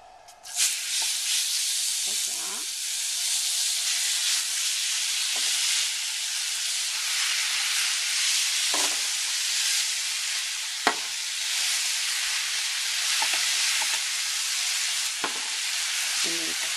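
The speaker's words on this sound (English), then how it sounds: "we're going to put the spaghetti squash in the melted butter" Cooked spaghetti squash sizzling in melted butter in a pan, with a steady loud frying hiss throughout and occasional soft clicks and scrapes of tongs stirring.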